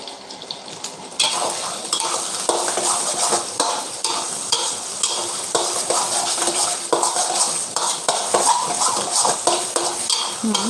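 Eggs fry in a pan with a steady, close sizzle, broken by frequent scraping and clinking of a utensil against the cookware.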